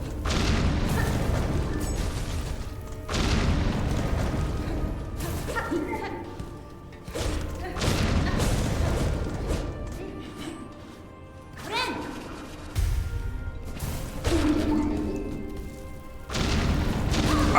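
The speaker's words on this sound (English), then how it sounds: "I didn't see his corpse death explosion" Booming crashes and thuds from enemy corpses bursting apart in Hollow Knight: Silksong, repeating every second or two through a busy game soundtrack while a player talks over it.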